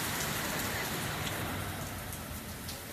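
Steady rain falls at night and patters onto the ground where puddles are forming, a dense, even hiss with no voices.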